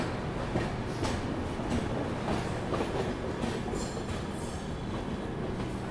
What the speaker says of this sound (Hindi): साबरमती नई दिल्ली अहमदाबाद स्वर्ण जयंती राजधानी एक्सप्रेस आ गई है